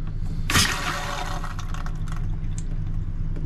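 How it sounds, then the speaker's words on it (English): Cold water gushes from an RV faucet, opening with a loud, splashy surge of pressure that settles within a second into a steady, broadband rush of running water, heard alone with no talk. "If I run cold water"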